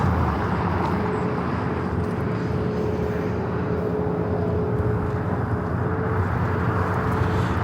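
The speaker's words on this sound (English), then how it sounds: "This arrival is Southwest Airlines 840 coming in from New Orleans on the MAX 8" A Southwest Airlines Boeing 737 MAX 8 arrives at LAX, inbound from New Orleans, as a steady, loud broadband jet roar that holds evenly for several seconds with no voices over it.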